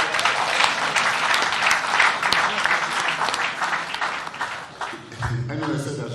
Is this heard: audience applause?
yes